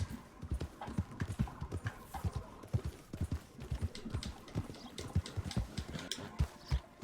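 Horse hooves clip-clop steadily in Red Dead Redemption 2, a fast, even rhythm of close, distinct footfalls carrying on without a break over a faint background.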